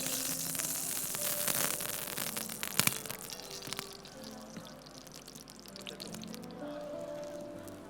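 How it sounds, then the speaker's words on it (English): Cooking oil poured into a hot pan at a cooking demonstration, giving a steady hiss and crackle that runs throughout, with a few sharper pops near the middle. "On a hot pan, then we put the oil."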